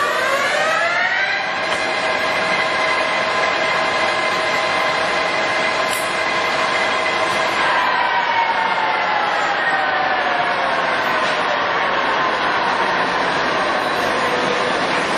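A heavy-duty LeBlond 28.5 by 144 inch engine lathe runs steadily at about 845 RPM, a loud continuous machine whine with layered tones that drift slightly in pitch, heard close up without talk.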